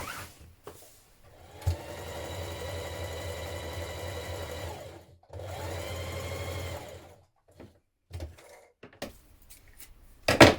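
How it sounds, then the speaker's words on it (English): A sewing machine runs ease stitching around the top of a vintage-style coat armhole between the notches, two steady sustained runs of several seconds each, close and clear, separated by pauses with small handling clicks and knocks. "We're going to stitch around the top of the armhole here, a line of ease stitching between the notches"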